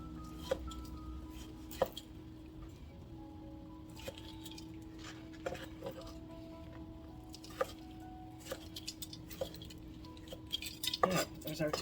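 A knife slicing a tomato on a cutting board in a home kitchen, sparse faint taps and knocks spaced irregularly over a low steady background hum.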